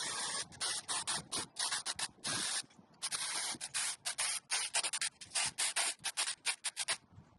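A Saker 4-inch mini cordless electric chainsaw buzzes through a branch in repeated short bursts, the motor cutting in and out with a gritty, rasping whine.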